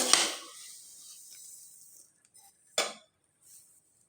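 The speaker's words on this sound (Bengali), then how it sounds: "আমি এভাবে খুন্তি দিয়ে দিয়ে মিক্সড করে নিলাম" A metal spatula scrapes and clinks against a pan of roasting fennel and coriander seeds a couple of times, with quiet pauses between the brief bursts.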